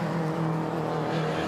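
Mini Cooper race cars in the Mini Challenge at Castle Combe circuit, a steady loud engine drone as a close group of cars runs past, with no pause in the noise.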